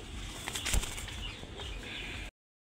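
Pigeons flap their wings close by, a burst of rapid fluttering beats with a sharp thump near the middle, over steady background noise, cutting off abruptly.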